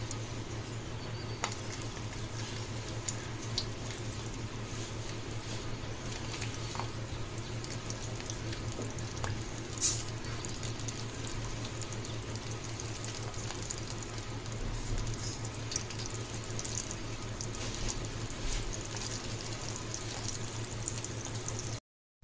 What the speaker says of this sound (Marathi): आपण वांग्याचे काप फ्राय करून घेऊया।